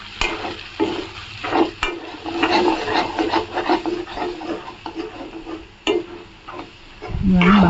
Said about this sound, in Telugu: ఇవన్నీ బాగా మిక్స్ చేసుకోవాలండి.